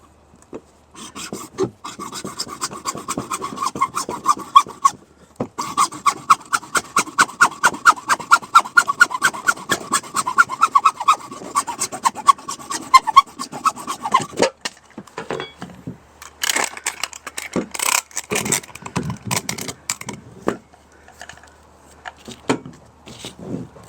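Pool return line pipe being cut with a hand saw, close and loud: long runs of rapid, rasping back-and-forth strokes, a short pause, then slower, uneven strokes and scraping.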